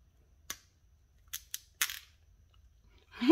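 A small resin flower trinket bowl pops free of its mold with a few short, sharp cracks and crinkles, close and quiet, spaced apart, followed by a louder rustle at the end.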